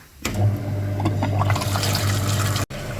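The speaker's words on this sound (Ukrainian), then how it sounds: "Тобто в системі є бруд, будемо мити таку систему, поїхали." Cooling system of a Toyota Camry 40 being flushed with liquid, steady rushing and gurgling flow under a low machine hum, close and continuous, with a brief dropout near the end, no voices.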